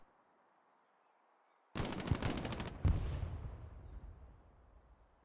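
A machine gun in the Hell Let Loose video game fires a rapid burst of about a second, then a brief second burst, loud against a quiet background, with a rumbling echo that fades slowly afterward.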